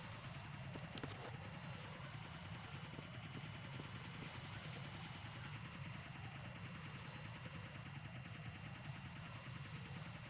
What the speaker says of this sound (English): That's a cipher, a type of UAV.